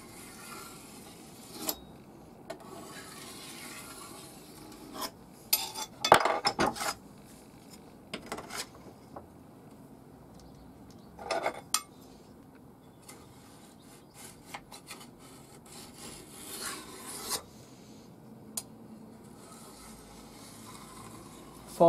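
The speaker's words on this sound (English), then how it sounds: "just run the file down the side, a couple of light strokes each side." A file run along the side of a chainsaw part in light strokes, producing sparse, brief rasping scrapes spread out between quiet gaps, close by.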